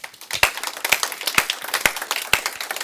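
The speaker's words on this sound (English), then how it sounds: "Can we give them a round of applause as well?" A church audience gives the leadership team a round of applause, with sharp individual claps standing out over a steady patter of clapping.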